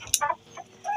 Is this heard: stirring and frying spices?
no